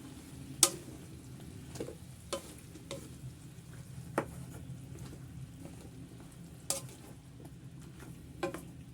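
Sautéed mixed vegetables fry in a pan and are stirred, giving a soft steady sizzle broken by occasional scraping clinks of the utensil against the pan.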